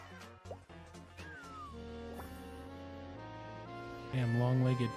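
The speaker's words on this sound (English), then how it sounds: "Damn, long-legged cat." A cat meows and chirps in a game trailer, short mewing calls woven into music with a sustained tonal score that swells louder toward the end.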